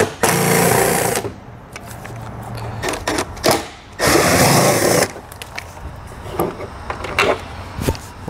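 A power driver with a T30 Torx bit spins out the two passenger-side taillight screws on a 2020 Chrysler, giving two loud, close whirring bursts of about a second each, with clicks and handling noise between them.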